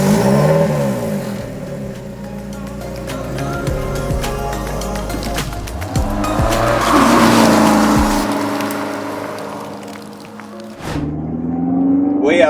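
A 2021 Lotus Elise Final Edition sports car driving on a road, its engine droning loudly with rising rev sweeps, a break as gears shift, then pulling hard again from inside the cabin.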